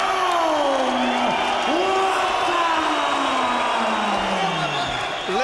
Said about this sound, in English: Listen to that crowd, Rob, for Watson.